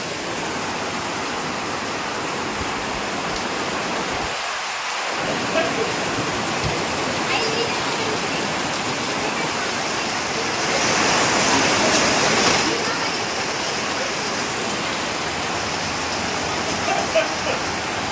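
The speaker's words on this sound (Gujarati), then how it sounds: "અચલગઢમાંથી બુટી શોપિંગ કરી અને વરસાદ ધોધમાર ચાલુ થઈ ગયો છે" Heavy monsoon-style rain pours at Achalgadh, Mount Abu, in a steady, dense roar, briefly dropping out once and swelling louder for a couple of seconds later on.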